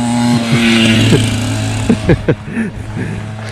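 A car fitted with an old Porsche engine drives along a street in Germany, its steady droning hum running throughout while people talk close by over it.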